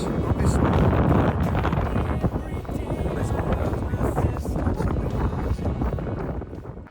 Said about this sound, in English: Very windy at the moment on this one.